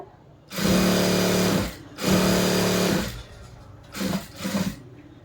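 A sewing machine stitches a churidar top in two long, steady runs, then a few short stop-start bursts, close and clear with no voices.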